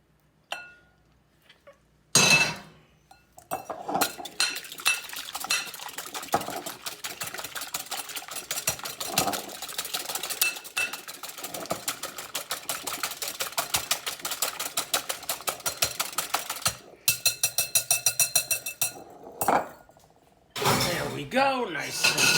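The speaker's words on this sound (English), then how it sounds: "I will now slowly beat the butter into the eggs." A whisk beats melted butter into eggs in a bowl for an omelette, a fast, regular clinking that runs for most of the stretch with short breaks. Someone talks over it at times.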